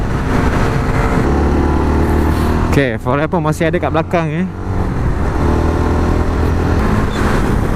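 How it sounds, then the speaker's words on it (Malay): A motorcycle engine, a stock Yamaha NVX V2 or Honda RS150 V2, runs with a rough, steady rumble throughout, mostly underneath a person talking in the foreground. "Dia engine kasar ni macam bunyi motor dah bikin"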